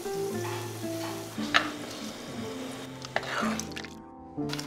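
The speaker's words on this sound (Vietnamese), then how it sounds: "Và tiếp tục chiên khoai môn" Shredded taro deep-frying until crispy for Vietnamese spring roll filling, with a steady bubbling sizzle of oil under repeated stirring and scraping sounds, near and moderately loud.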